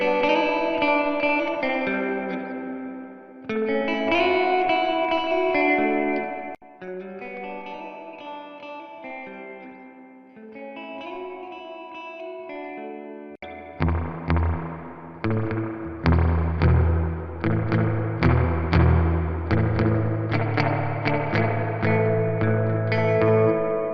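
Fender Tone Master Deluxe Reverb guitar amp with its reverb turned all the way to 10, giving a clean electric guitar a wide, washy, sustained tail; gentle chords first, then a louder, busier strummed passage with a heavy ringing reverb bloom.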